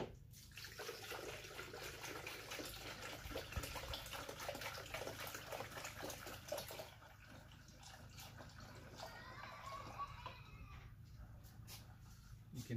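Water pours from a half-liter jug into the coolant system of a Lincoln MKX / Ford Edge with a 3.7L or 3.5L engine, a steady splashing trickle that runs for about seven seconds, then thins to a quieter gurgle.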